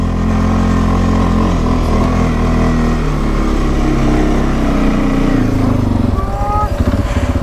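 An ATV with an overheating engine revs hard while climbing a slope, a loud, close, sustained engine drone that shifts in pitch toward the end.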